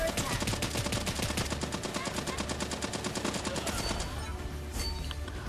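Rapid automatic gunfire in the Raider Six battle-royale shooter, a dense rattling stream of shots that runs loud and steady for several seconds before thinning to a few scattered bursts near the end.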